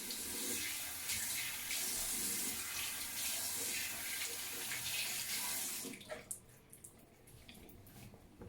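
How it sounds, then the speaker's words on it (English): Tap water runs steadily as a coconut oil hair mask is rinsed out of hair, a loud continuous splashing for about six seconds before it stops, leaving a few faint drips and handling sounds. "So I'm now washing the hair mask off my head."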